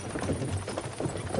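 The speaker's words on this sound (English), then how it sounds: "can't you make the horses go a little faster" Horses pull a cart in Kingdom Come Deliverance 2, their hooves clip-clopping in a quick, steady rhythm at moderate volume.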